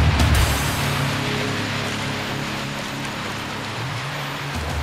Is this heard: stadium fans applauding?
no